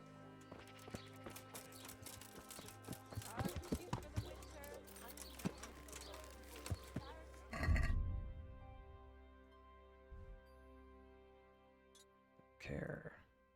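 Horse hooves clip-clop in a rhythmic walking pattern in the video game Kingdom Come: Deliverance, fairly soft over a faint ambient game background, stopping partway before a few scattered thuds.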